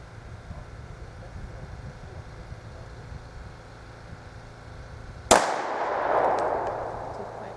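A single sharp handgun shot fired at a target on a range, a sudden loud crack that breaks a low background hum, then a short decaying echo.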